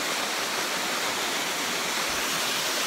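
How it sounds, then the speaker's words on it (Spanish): A waterfall in Mayflower Bocawina National Park, Belize, pours in a steady, dense roar of falling water that fills the whole clip, close and loud with no voices. "Una cascada bellísima."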